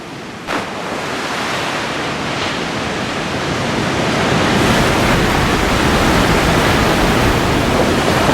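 Ocean surf rolling in, a dense, steady roar of breaking waves that swells slightly louder toward the end, with no voices.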